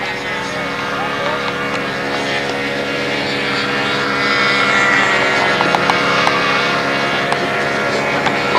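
Radio-controlled model plane flying at a local home field in windy conditions, its engine a steady buzzing drone that swells slightly louder partway through, heard from a moderate distance over faint outdoor background noise.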